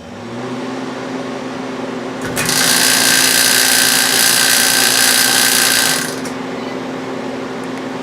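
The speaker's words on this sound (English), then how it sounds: "hit start so our pump kicks on" A freeze dryer's vacuum pump kicks on with a bright, loud mechanical whir, runs steadily for a few seconds, then cuts off, leaving a lower background hum before and after.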